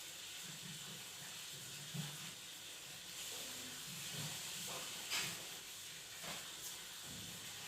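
Chicken lachha pakora potato strands frying in hot oil on moderate heat, a steady close hiss and sizzle with faint intermittent crackles and soft clatters of handling.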